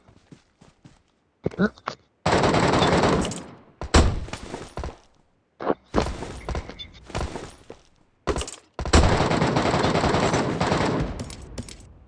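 Automatic gunfire in the mobile shooter PUBG Mobile Metro Royale rattles in long loud bursts and short volleys with impacts between them, and players talk over the shooting.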